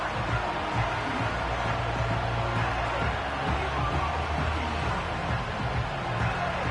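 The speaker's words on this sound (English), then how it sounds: "This crowd doing all they can." A football stadium crowd at a Chiefs–Eagles game roars as one steady, loud, dense wash of cheering and yelling that holds without a break, with no clear voice standing out.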